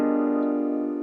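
A single sustained piano chord, an altered G dominant seventh with all notes played at once, ringing steadily and fading slightly over about a second, with no voices.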